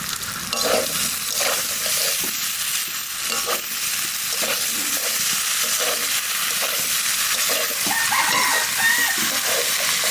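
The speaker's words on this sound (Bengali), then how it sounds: "ওলটা একটু ভাজে নিলাম, আর কাঁচা লঙ্কা বাটা আর আদা বাটা দিয়ে দেবো।" Elephant foot yam fries in a pan with salt, turmeric, green chilli paste and ginger paste, giving a continuous loud sizzle with stirring scrapes throughout, while a rooster crows faintly in the background.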